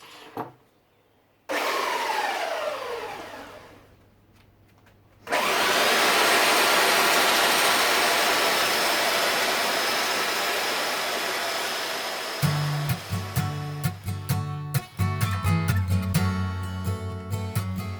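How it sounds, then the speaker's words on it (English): Air orbital sander running on an end-grain wood block and epoxy tabletop: after two short bursts, a long steady whirring hiss holds loud and continuous, then gives way to rhythmic scraping and knocking near the end. "and then with 240 grit using the Air Orbital Sander."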